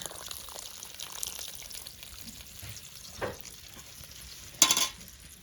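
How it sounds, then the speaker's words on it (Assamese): Water poured into sizzling local chicken curry as it is stirred, giving a faint continuous sizzle with soft scraping, a small clink midway and a louder splashing hiss near the end. "আৰু এতিয়া ইয়াত পানী দি থকা হৈছে"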